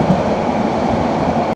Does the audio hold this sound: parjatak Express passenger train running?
yes